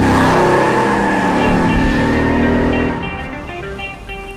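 Car engine revving hard as it is driven aggressively, a loud close roar with rising pitched harmonics that eases off toward the end.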